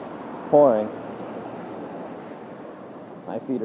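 Heavy rain pours steadily during a wet walk home, a broad even hiss close around the listener, with brief bursts of speech breaking over it near the start and the end.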